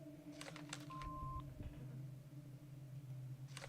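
Telephone dialing tones in the video game Autopsy Simulator: a quick run of short keypad beeps, then one longer steady tone, over a low background hum.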